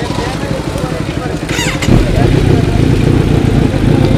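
A superbike fitted with an SC Project carbon series exhaust runs nearby with a deep, steady engine rumble that rises slightly partway through, while people talk over it.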